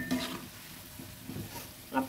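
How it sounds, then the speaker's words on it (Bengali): Ripe banana fritters frying in a wok, turned over as they cook: a soft steady sizzle with light stirring clatter, faint and close, with no talk. "উল্টে পাল্টে বড়াগুলোকে ভেজে তুলে নেব।"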